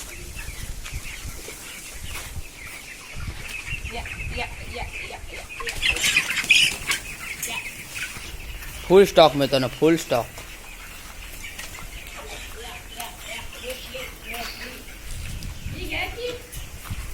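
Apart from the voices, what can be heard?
English hen squawking and flapping while being caught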